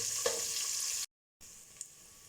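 Chicken wings sizzle steadily as they fry over a medium-to-low flame for biryani, a broad, close hiss cut by a brief pause before resuming.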